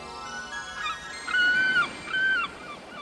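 Seagulls call out over the sea near an island, giving several drawn-out wailing cries, the two strongest about a second apart, heard at moderate distance over a steady low background.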